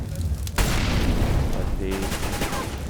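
A grenade explodes during a professional Counter-Strike match on the Cobble map, a sudden broadband blast followed by a sustained rumbling tail, with other game sounds and commentary voices running underneath.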